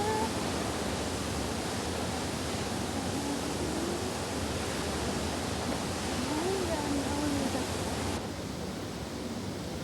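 A Grand Canyon waterfall roars as a continuous broadband rush of falling water, steady and enveloping, with faint voices and a brief tonal sound drifting over it.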